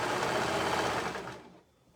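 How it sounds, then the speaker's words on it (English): A sewing machine runs at steady speed stitching a cuff band onto a shirt, a close whirring buzz that slows and stops about one and a half seconds in, leaving near silence, with no talk. "keeping the 3 raw edges lined up as I sew"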